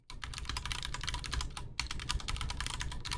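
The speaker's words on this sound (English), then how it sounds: "you're gonna hear some typing" Rapid, steady typing on a computer keyboard, a dense run of close clicking keystrokes that pauses briefly and resumes, with no voices over it.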